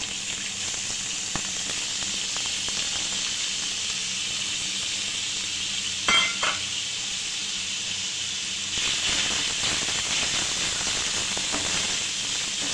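Thin slivers of chopped potato fry in hot oil, giving a steady broadband sizzle and hiss throughout, with a brief crackling burst around the middle and a slightly louder sizzle toward the end; no voices.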